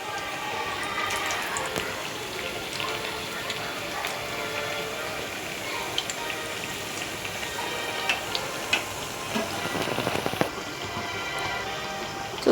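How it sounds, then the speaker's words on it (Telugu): Sweet corn and spinach masala vadas frying in hot oil, a steady dense crackle and fizz of bubbling oil with sharp pops growing busier toward the end. "ఇలా నురగొచ్చే వరకు బాగా వేడి నూనెలో ఇట్లా నురుకొస్తుంది."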